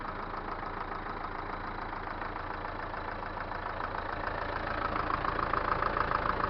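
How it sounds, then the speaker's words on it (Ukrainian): An MTZ-82 tractor engine idles steadily with a rough, rhythmic chugging that grows slightly louder toward the end; no voices. "Ну що, завів я трактора"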